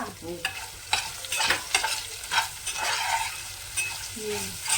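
Drumsticks (moringa pods) frying in a pan and being stirred, with a continuous close sizzle broken by repeated scraping strokes of a spatula and a few metallic clinks, no talk.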